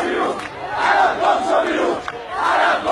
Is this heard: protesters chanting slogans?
yes